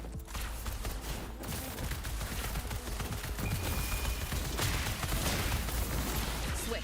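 Sustained gunfire from a video game, a dense continuous burst of shots running loud and steady throughout with no talking.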